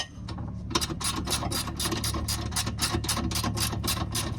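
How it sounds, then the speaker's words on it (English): A ratchet on a 13mm socket clicks in quick repeated strokes, about a dozen close, crisp bursts in a steady rhythm, as it tightens the inner A-arm bolt on a Club Car golf cart. "it's a 13mm socket. So we're gonna take it and tighten up the A-arm bolt up, the inner A-arm bolt"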